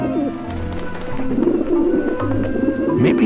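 Pigeons coo steadily in the adventure game Grim Fandango, soft repeated low coos running through the whole stretch beneath a busy game soundscape with a little background tone.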